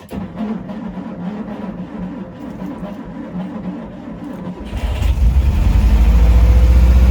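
A LuAZ car engine warms up at idle, first a fluttering low rumble that swells abruptly into a louder, deeper, steady drone near the end.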